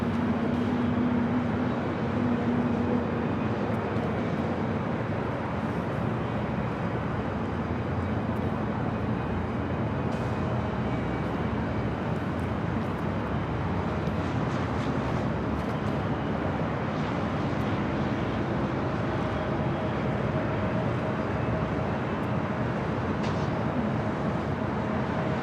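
An Emirates airliner at LAX airport gives a steady, distant jet roar that holds evenly throughout, with no voices.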